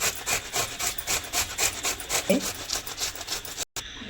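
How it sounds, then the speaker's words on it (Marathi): An onion being grated by hand for a semolina and potato paratha, with quick rhythmic rasping strokes close to the microphone and a brief gap near the end. "कांद्याला पण असं खिसून घ्यायचं"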